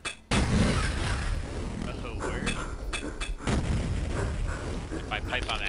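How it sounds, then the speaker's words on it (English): A pipe bomb going off in Duke Nukem 3D: a sudden loud blast followed by rumbling booms and clattering impacts over several seconds, with game effects layered on top. "Let's see if I can get this pipe bomb action going on."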